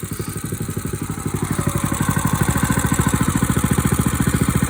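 An engine warms up at about half throttle, around 2,600 RPM, with a close, fast, evenly pulsing chug that grows louder after the first second and then holds steady.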